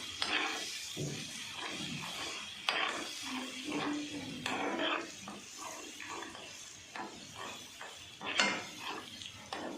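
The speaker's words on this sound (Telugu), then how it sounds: "అల్లం అయితే ఇలా కలుపుతూ పచ్చివాసన పోయేంత వరకు అయితే వేయించుకోవాలండి" Ginger being stirred and fried in a pan for mutton pickle, with a steady close sizzle broken by repeated scrapes and clinks of a spatula against the pan.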